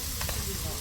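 Squid frying in a hot pan, a continuous loud sizzle with crackling hiss, heard close up during a short moment.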